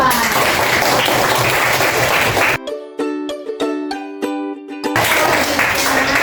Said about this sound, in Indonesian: Tepuk tangan untuk kelas 4.